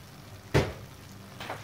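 Roasted cashews drop into a hot pan of coconut burfi mixture, giving one sharp sizzling hiss followed by a fainter second sizzle against a quiet background.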